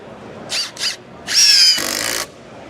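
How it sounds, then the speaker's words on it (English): A standard Milwaukee impact driver fires in two short bursts, then one longer burst, each a loud, close, high-pitched whine and rattle with brief pauses between. "So we'll start with a standard impact driver to kind of set the baseline."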